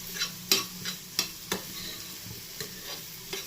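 Orange peels sautéing in a pan, with a soft steady sizzle and a scatter of sharp stirring clicks and scrapes spaced irregularly through the short stretch, close and fairly quiet, with no voices.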